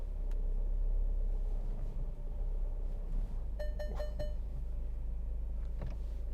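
A 2017 Ford Focus 1.5 TDCi Titanium X creeps in reverse, its diesel engine a low steady rumble close by, with a short run of electronic parking-sensor beeps midway and a few soft cabin clicks.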